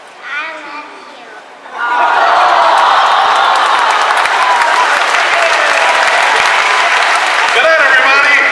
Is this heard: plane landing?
no